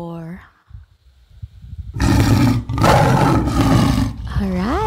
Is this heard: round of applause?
no